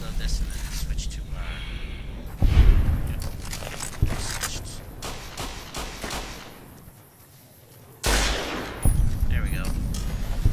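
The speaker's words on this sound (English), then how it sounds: "It's a very loud gun" Gunfire from a loud gun in the video game Fallout New Vegas, heavy blasts and mechanical clatter in a few loud bursts separated by quieter stretches.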